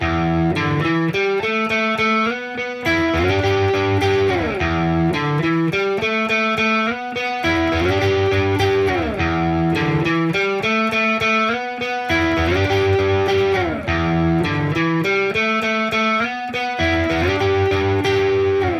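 Heavily distorted electric guitar chugs through the repeating chorus chord riff of a song, loud and thick, with brief gaps between phrases.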